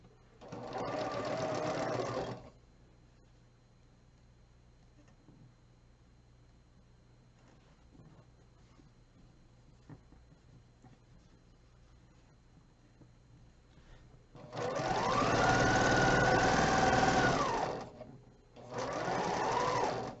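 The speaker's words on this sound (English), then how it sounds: "Flip that on top of there and sew these together." A sewing machine stitches quilt block pieces together in short, loud bursts: a run of about two seconds, a long quiet stretch with faint handling noises, then a longer burst and a brief final one.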